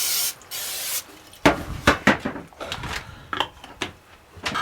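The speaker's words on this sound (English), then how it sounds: "We're going to spray a 9x13 pan with cooking spray." Two quick hissing bursts of cooking spray into a 9x13 pan, followed by scattered clicks and clatters of the pan being handled.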